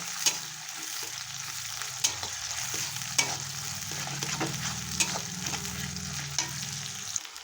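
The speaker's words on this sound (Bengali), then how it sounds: "পেঁয়াজটা লাল করে ভেজে নেব" Steady sizzling of onions and whole garlic cloves frying in a pan, with occasional sharp clicks of a spoon stirring, continuous and close.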